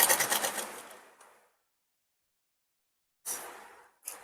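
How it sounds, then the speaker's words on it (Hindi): A sewing machine stitching a pant hem runs in a fast rattling burst that slows and stops, then after a pause starts again in two short runs; close and clear with no talking. "इसको सिलना स्टार्ट करिए"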